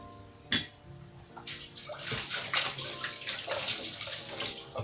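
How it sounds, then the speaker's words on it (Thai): Hands washed under a running tap beside the stove while cooking: a sharp splash, then a steady hiss of flowing water with small splatters, moderately close. "ล้างมือซะหน่อย อุ้ย น้ำไปโดนกระทะ"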